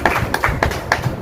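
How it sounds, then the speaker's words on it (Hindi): An audience clapping to welcome a speaker at a women's gathering, a short burst of fairly close, rhythmic claps in a room. "आइए भाभी जी, सभी लोग तालियां बजाकर स्वागत करें"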